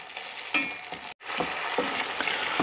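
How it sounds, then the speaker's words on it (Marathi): Tomato paste frying in oil for a chicken leg masala, a soft continuous sizzle broken by repeated scraping stirs of a spoon in the pan, with a momentary cut partway through. "टोमॅटोची पेस्ट आपल्याला तेल सुटेपर्यंत चांगली परतून घ्यायची आहे"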